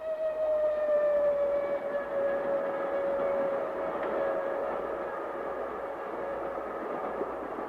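Trains passing at night in a radio drama effect, a steady loud rumble with a long sliding tonal whine that slowly falls in pitch, continuous and without voices.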